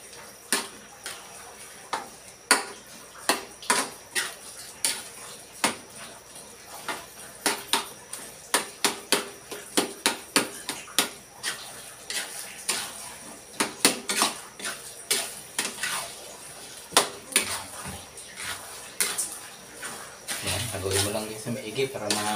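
A spoon scraping and knocking inside a pot as biko, a sweet sticky rice cooked with latik over low heat, is stirred until it dries, giving a steady run of close, irregular metallic clanks and scrapes with no talking.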